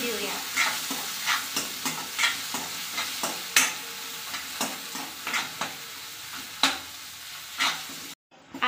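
Tomatoes cooking with onion and green chillies in a pan for matar bhat, with soft sizzling broken by repeated scraping stir strokes, fairly close and steady, ending with a brief cut.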